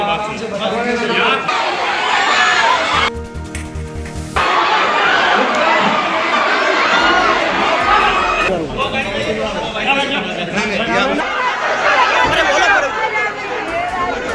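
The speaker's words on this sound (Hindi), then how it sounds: "ये गुस्साई भीड़ है जिसका गुस्सा फूटा है" Angry crowd in Baghpat, Uttar Pradesh, shouting and clamouring in a loud, dense babble of many voices, with a brief lull before the roar resumes and persists throughout.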